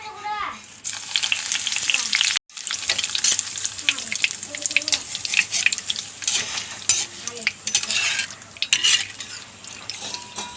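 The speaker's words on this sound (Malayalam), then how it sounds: "ഇനി അതിൽ ഇത്തിരി വേപ്പിൻ്റെ ഇല വറുത്തിടാം" Curry leaves frying in oil for pakkuvada make a loud, close sizzle with busy crackling, over a spoon scraping and stirring against the pan and a brief cut in sound partway through.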